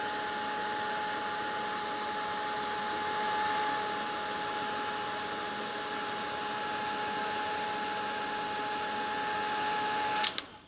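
A heat gun blows steadily as it warms decorations on a winter scrapbook album page, a constant airy whoosh with a faint tonal whine that runs unbroken and close, ending with a brief click as it switches off.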